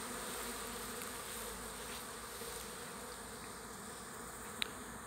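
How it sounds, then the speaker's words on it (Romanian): Honey bees returning to the hive entrance with pollen during an orientation flight: a dense, continuous buzzing swarm drone, fairly quiet and even, with one faint sharp tick near the end. "mai vin și albinuțe cu polen"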